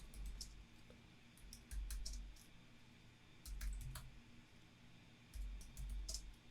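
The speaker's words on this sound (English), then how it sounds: "Let's go ahead and type this command out." A command typed into a terminal on a computer keyboard: quiet, close clusters of crisp key clicks come in several quick bursts separated by short pauses, with a soft low hum underneath and no talking.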